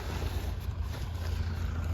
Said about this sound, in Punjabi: ਟਰੈਕਟਰ ਆਪਣੇ ਕੋਲ ਪਹੁੰਚ ਚੁੱਕਿਆ ਮਸ਼ੀਨ ਲੈ ਕੇ